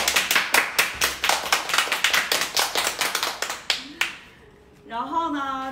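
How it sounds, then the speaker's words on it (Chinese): A livestream host claps her hands close to the microphone in a quick, even run of roughly twenty sharp claps that stops abruptly, followed by her speaking. "鼓掌。"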